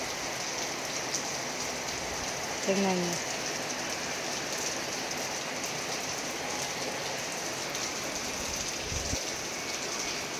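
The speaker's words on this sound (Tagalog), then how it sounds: "Ang lakas ng ulan." Heavy rain drums continuously throughout, with a brief spoken remark near the start and a faint thump later, the downpour never letting up.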